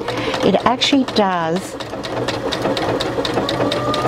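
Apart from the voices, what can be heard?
Brother A150 sewing machine sewing a triple straight stitch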